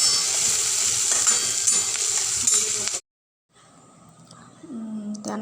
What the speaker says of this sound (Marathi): कांदा थोडा भाजत आल्यानंतर त्यामध्ये 2 चमचे तूप घालायचे